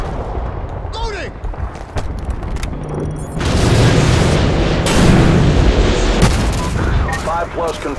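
Artillery fire and explosions in Modern Warfare 2, deep booms and heavy blasts breaking out midway, loud and sustained, with radio chatter and shouted voices around them.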